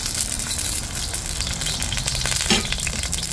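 Eggplant fries in hot canola oil for a budget ginataang talong, giving a dense, continuous sizzle and crackle close up. The sound stays even throughout with no voices.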